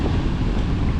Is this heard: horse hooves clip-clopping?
no